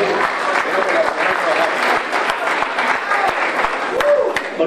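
Audience applause filling a meeting hall at a training session, dense continuous clapping from a crowd held at a steady loud level throughout.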